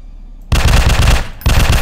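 Rapid gunfire from a gun in the video game Z Day Shootout: a short silence, then a loud sustained burst, a brief gap, and the burst resumes.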